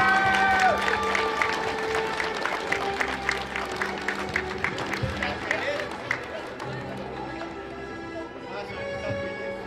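A school awards ceremony audience applauds in a long, steady wash of clapping. A voice speaks over the clapping, with a few sharper claps standing out.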